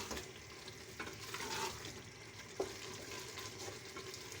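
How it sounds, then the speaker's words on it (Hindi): Black chickpeas stirred and fried in a pan, with a steady close sizzle and spoon scrapes, plus a sharper knock near the end; no voices. "तकरीबन 3 से 4 मिनट हम चने की अच्छे से बुनाई करेंगे"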